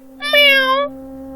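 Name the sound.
cat meowing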